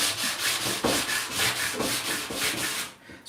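Wet sandpaper is rubbed over primer on a figure's body and legs in steady back-and-forth strokes, a soft close rasping repeated about a dozen times with no talk.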